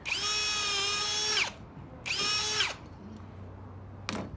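A power drill whines at high speed in two bursts, spinning up and winding down while countersinking plastic decking, followed by a short scrape and a quiet tap.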